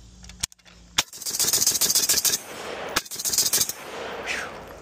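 An AK47 rifle chambered in .308 with an Unrivaled muzzle brake fires a sharp shot, then a rapid string of loud, rattling shots, another crack and a second burst, all close and without talk.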